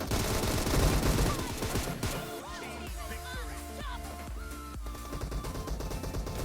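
M762 assault rifle fire in a PUBG Mobile team deathmatch comes as a dense burst of rapid, loud shots in the first two seconds, then spaced single cracks over ringing game effects and music.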